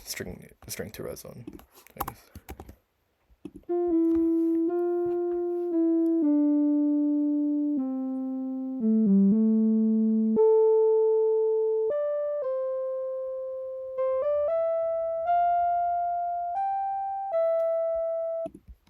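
After a few seconds of clicking, a sequence of plucked-string tones sounds, each note ringing and fading before the next, stepping through different pitches.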